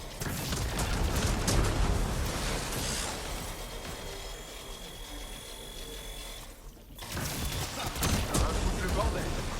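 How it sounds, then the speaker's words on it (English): Dense, sustained gunfire from the video game Mass Effect: Andromeda, a Krogan engineer in multiplayer against Kett, rattling loudly with a short lull before the shooting resumes. "Ça tire dans tous les sens."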